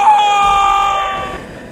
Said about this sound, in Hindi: साहिल बहुत तेज चीखा